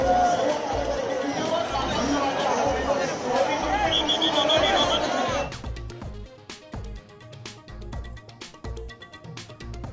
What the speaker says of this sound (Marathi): बाप्पाला निरोप देण्यासाठी भाविकांची उसळली गर्दी